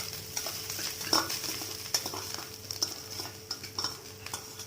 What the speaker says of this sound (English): Add the coconut into the hot oil.